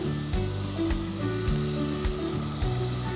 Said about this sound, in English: just a minute of sauteing, just for that rawness of the garlic and onions to go away.